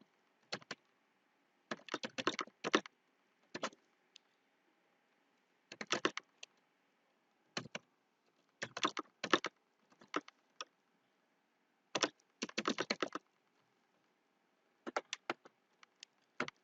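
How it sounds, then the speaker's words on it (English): Bursts of typing on a computer keyboard while entering details into a web sign-up form, short clusters of quick close key clicks separated by pauses, with no talking. "so let me just type in something."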